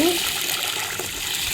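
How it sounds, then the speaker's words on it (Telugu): Water poured from a vessel onto washed mixed lentils set to soak for dosa batter, a continuous splashing gush at close range, with a brief voice at the very start. "వాటర్ పోస్తున్న చూడండి"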